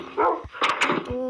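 A dog barks and yips a few times in the video game Minecraft, short sharp calls close up, with a voice talking over part of it.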